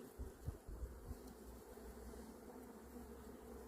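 Returning forager honey bees buzz steadily in the air at an apiary, a low, continuous hum with a few closer passes near the start, faint and with no voices.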